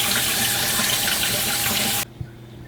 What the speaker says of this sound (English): we'll just rinse them to make sure.